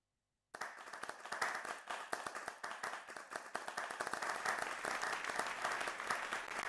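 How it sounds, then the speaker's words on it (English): Audience applause at a youth debate event, steady dense clapping from a crowd starting abruptly after a brief silence and continuing at an even level throughout. "Let's give a round of applause."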